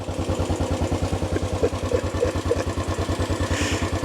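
A 2020 Royal Enfield Bullet Trials Works 500 single-cylinder motorcycle ticking over at idle, a steady, even thumping pulse with light mechanical clatter, close and continuous with no talk.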